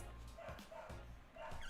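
A dog barks and yips excitedly in a few short bursts, close and loud, with a whining edge between the barks.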